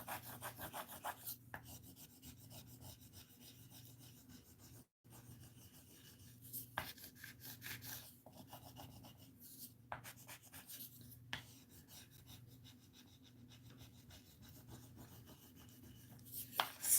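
Quiet, repeated rubbing and scraping strokes at close range as an IOD transfer is burnished onto a wooden Christmas sign, in uneven bursts with short pauses, with no talking.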